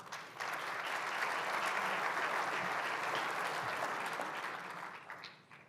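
Steady audience applause at an investment talk, a dense, even clapping from a seated crowd that holds for about five seconds and then tapers off.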